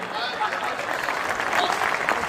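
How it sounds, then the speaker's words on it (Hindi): Audience clapping at a comedy poetry gathering, fairly quiet and mixed with crowd murmur and chatter, building slightly toward the end. "एक बार जरा जोरदार तालियां बजाइए"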